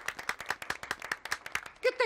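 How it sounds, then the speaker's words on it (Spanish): A group claps at a wedding celebration in a quick, even rhythm of sharp, distinct hand claps. Voices break in briefly at the very end. "Así que aplaudamos."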